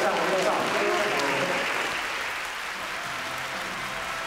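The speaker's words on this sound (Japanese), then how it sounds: "温かい拍手に送られ会場を後にした" Guests at a wedding reception clap warmly as performers leave, a steady dense patter that is loudest at first and softens gradually, with voices mixed in.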